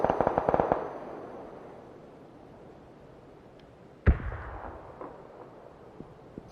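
A grenade goes off in a PUBG FPP squad tournament match, one sharp, fairly loud blast about two-thirds of the way through, with a decaying rumble and smaller pops after it. A rapid burst of cracks is heard near the start.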